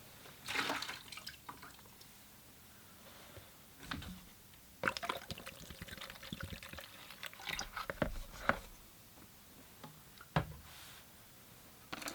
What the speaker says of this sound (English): So I'll change that out with some fresh, clean water.